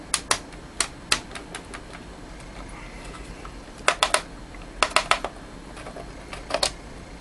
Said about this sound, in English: Okay, all the screws are out.